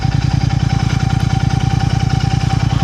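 A parked motorcycle idles close by on a rough mountain road in Punakha, Bhutan, early in the morning. Its engine throbs in a steady, loud, even rhythm for the whole stretch, with no talking.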